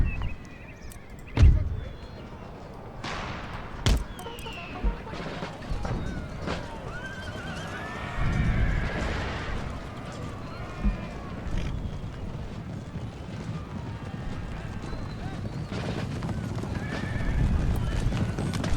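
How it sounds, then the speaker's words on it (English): Many heavy cavalry horses thunder across the ground in the video game Empire: Total War, with heavy hoofbeats and loud whinnies, mixed with sharp impacts and the rumble of a charging crowd. "Take the charge of the heavy horse."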